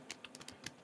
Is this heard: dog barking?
no